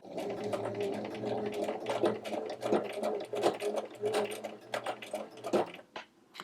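A Brother sewing machine with a button sew-on presser foot stitches a quarter-inch button on, swinging from side to side in quick rhythmic mechanical bursts close by, with a short pause near the end.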